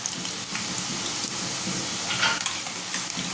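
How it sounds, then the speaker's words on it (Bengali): Nimki pieces fry in hot oil, giving a steady, dense sizzling hiss with faint crackles throughout, close by and with no one talking. "চলো ভেজে নিয়ে এক এক করে বেশ ভালো তেলটা গরম হয়েছে"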